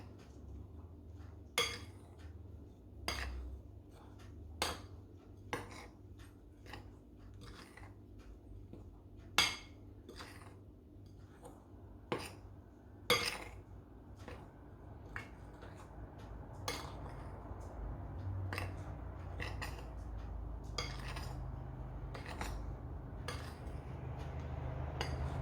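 Rum ball ingredients being mixed in a bowl, with a steady run of clinks and taps from a utensil against the bowl and a softer scraping underneath, close and fairly quiet.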